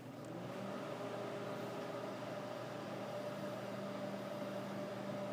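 A microwave oven runs with a label printer ink cartridge inside: a constant low hum with a steady mechanical whir, unchanging throughout, with no voices.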